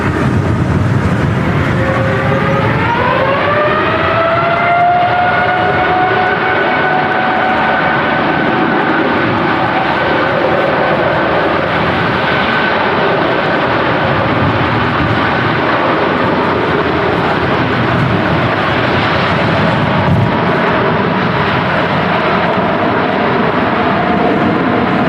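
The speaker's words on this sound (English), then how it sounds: "we're just waiting for this Gulf Air to depart on the south side" A Gulf Air airliner departing in strong crosswinds at Manchester Airport during Storm Claudio, its jet engines spooling up into a loud, sustained roar that holds steady alongside wind noise.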